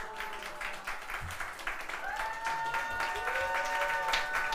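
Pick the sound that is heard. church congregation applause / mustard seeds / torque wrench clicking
church congregation applause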